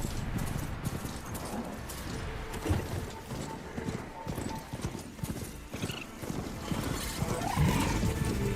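Hooves clip-clop steadily from a horse in the video game Horizon Forbidden West, with a whinny breaking through over ambient game sound and faint voices.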